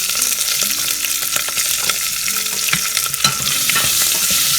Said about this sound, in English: So we have to nicely roast the small onions